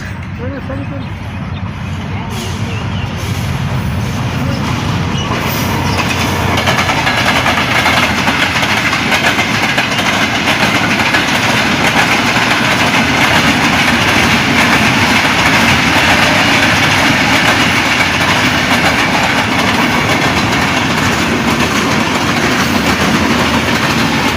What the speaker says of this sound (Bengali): ট্রেন আসতেছে, ট্রেনের সিগন্যাল শুনতে পাচ্ছেন বাংলাদেশের ভেতর দিয়ে যে ট্রেন চলাচল করে,